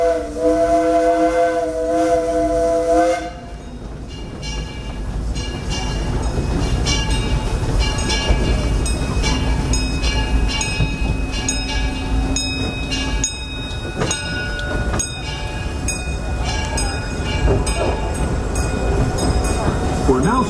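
A Disneyland Railroad steam train sounds its whistle in a long, loud tonal blast, then keeps running with steady chuffing, hissing and rhythmic clanking of the cars.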